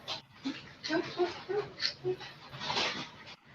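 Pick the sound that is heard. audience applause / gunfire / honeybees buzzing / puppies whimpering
puppies whimpering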